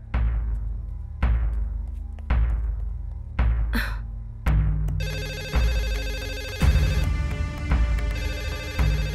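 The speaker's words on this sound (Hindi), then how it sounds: "माँ फोन उठाओ।" A telephone rings repeatedly in a dramatic film scene, with a steady pattern of sharp ring bursts about once a second under a swelling music score, and a brief gasp partway through.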